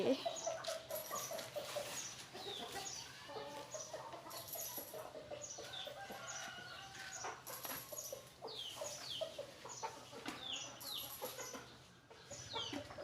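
Chickens cluck and call repeatedly at close range, with a rooster-like crow and scattered bird chatter in a busy farmyard in Thailand.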